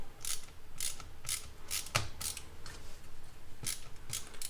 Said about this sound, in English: So now I'm going to start putting screws in.